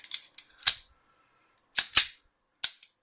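An F.E.G. .32 ACP police pistol has a fresh magazine inserted and its slide racked. A few sharp metallic clacks ring out close, with a louder pair of snaps in the middle and a final click near the end.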